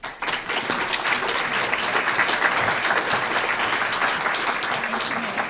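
Sustained applause from a lecture audience welcoming a historian to the stage, a dense, steady patter of many hands clapping at close range for several seconds with no talk over it.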